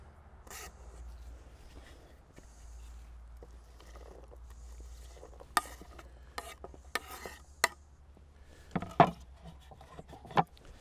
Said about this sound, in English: And I'm just going to stir it together.